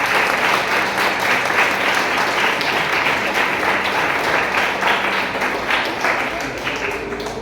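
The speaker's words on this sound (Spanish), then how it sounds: "Dale un aplauso fuerte al Señor" A church congregation claps loudly during a sermon, a thick, sustained wash of many hands that holds steady and eases off slightly toward the end.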